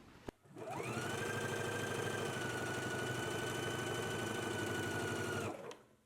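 A sewing machine runs steadily for about five seconds, stitching a 5/8-inch seam allowance on a jumpsuit, with an even whirring hum that starts and stops cleanly and no talk.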